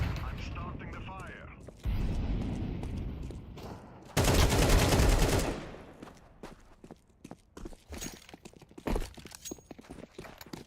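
A grenade explodes in a video game as a loud, roaring blast lasting about a second. Scattered gunshots and footsteps surround it, and a voice talks over the game sounds.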